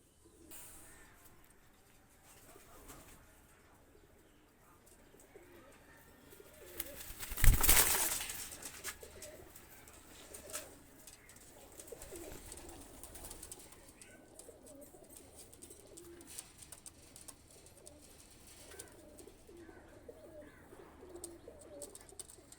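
Pakistani High Flyer pigeons coo softly and intermittently in the background, with a brief loud burst of noise partway through.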